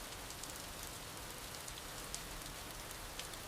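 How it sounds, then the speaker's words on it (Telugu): Steady rain falls on a village setting, a dense even hiss with scattered sharper drop taps, constant and close throughout. "వర్షంలో తడుస్తున్నాను."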